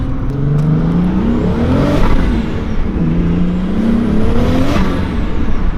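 A turbocharged 2.8-litre 24-valve VR6 engine revs hard through two rising acceleration pulls, loud and close inside the car, with turbo whine and a brief dip between gear changes, with no talking.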